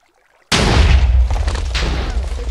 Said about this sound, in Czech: Výbuch byl ve vzduchu.